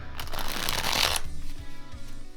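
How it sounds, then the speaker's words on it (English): A deck of card game resource cards for a Marvel card game being shuffled by hand, giving a loud, dense riffling burst for about a second before it settles into softer, scattered card handling close by. "You can go ahead and shuffle them up"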